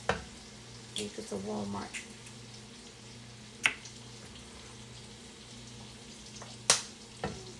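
White eggs frying in a pan at home, with a steady soft sizzle under a voice and a few sharp clicks and taps from utensils.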